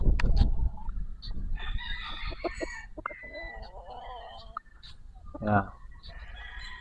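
Super Sweater gamecock roosters crow and cluck in a farm yard, with several bird calls scattered through the stretch and a louder crow near the end, while someone talks over them.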